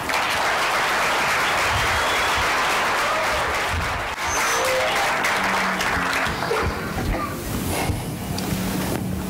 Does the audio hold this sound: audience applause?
yes